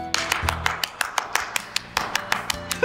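A small group claps in a brief, uneven patter of about a dozen distinct, crisp hand claps, close and fairly light, after a shadow puppet show.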